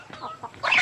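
A free-range village chicken clucks in a few short, soft calls near a rice paddy, ending with a louder squawk.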